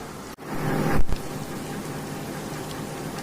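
Onion fritters (peyaji) fry in oil in a frying pan, a continuous close sizzle with a brief louder crackle early on, heard without talk.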